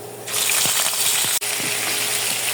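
Beef dropped into a pan of browned garlic, hissing into a loud, steady sizzle that holds from start to finish, with a few soft thumps and stirring clinks under it.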